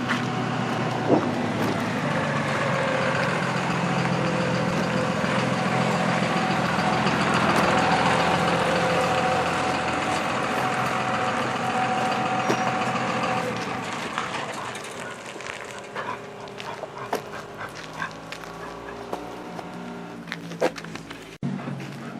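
A truck arrives on a trailer with its engine running, a steady low rumble and drone holding for most of the time before easing to idle, with scattered clanks and knocks near the end.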